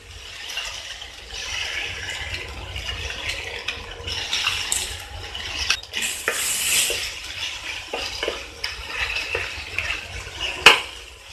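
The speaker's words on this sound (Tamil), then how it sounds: "நல்லா ஃப்ரை பண்ணி விடுங்க." Chilli parotta made from leftover parotta, dusted with cornflour slurry, being fried and tossed in a pan over high flame: steady hissing sizzle with irregular scraping and stirring clatter, close up and without speech.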